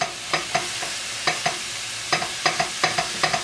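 Half a pound of ground beef sizzling in a pan over medium-high heat, with a steady fry under sharp, regular scraping and stirring strokes from a utensil, close and alone.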